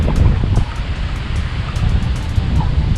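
Strong wind gusting across a lakeside fishing spot at Mile Square's South Lake in Southern California, buffeting the microphone with loud low rumbles throughout, with faint lapping water and rustling beneath.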